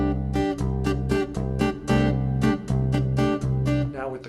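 Chapman Stick tapped with the fingers in a steady rhythm pattern, a low bass note pulsing under chord hits in even repeated beats, close and clear with no talking.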